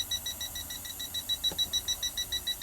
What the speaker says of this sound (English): you see it's beeping straight away